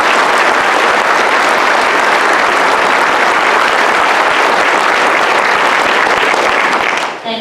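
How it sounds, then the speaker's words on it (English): Sustained, dense applause from a conference audience at a convention center, loud and steady throughout before cutting off abruptly at the very end. "Can you give them a round of applause?"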